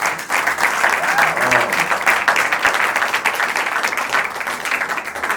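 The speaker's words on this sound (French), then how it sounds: "est-ce qu'on peut applaudir pour ça?" A church audience at a film premiere applauds, a dense, steady wash of clapping that holds loud for several seconds and begins to thin at the end.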